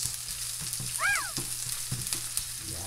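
Red onions hit a hot pan and fry with a steady, close sizzle, a few scraping stirs and a brief rising squeak partway through; no one speaks.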